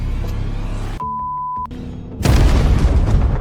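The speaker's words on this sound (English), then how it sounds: "Without any hesitation, George pulled the pin on a grenade." A grenade explodes in a deep, roaring blast that fills the second half of the clip after a quieter stretch marked by a thin sustained tone, with the rumble staying loud until the end.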